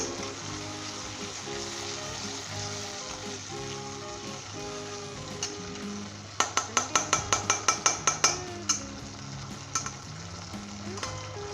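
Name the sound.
stirring vegetable macaroni with ketchup in a pan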